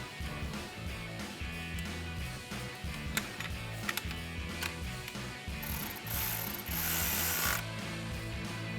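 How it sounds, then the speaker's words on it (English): A ratcheting wrench with a 10mm socket tightens a bolt during front upper control arm work on a 2004-2020 Ford F-150, giving repeated close, rhythmic clicking strokes with metallic ticks. "Next, we're going to take our 10mm socket on our ratcheting wrench and install the"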